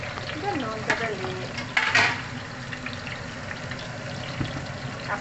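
Sliced onions and capsicum for chicken fajitas fry in a pan on lowered heat, a continuous close sizzle with scattered spatters and a couple of louder stirring bursts, while a voice murmurs faintly underneath.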